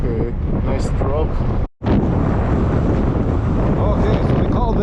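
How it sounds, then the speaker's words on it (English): Strong wind on a desert crater rim buffets the microphone in loud, gusty roars, with a person talking through it and a brief dropout partway. "Super windy up here."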